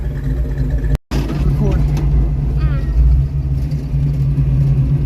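A Ford Mustang engine idles steadily with a low, constant rumble at a gas station, while people talk nearby over it.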